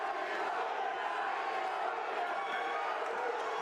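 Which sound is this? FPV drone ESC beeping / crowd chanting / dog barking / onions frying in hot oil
crowd chanting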